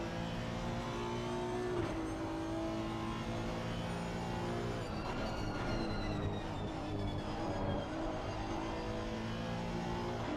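Several Honda race cars circle the Brands Hatch circuit in a racing video game, their engines roaring continuously with layered revving pitches that climb and shift as the pack drives past together.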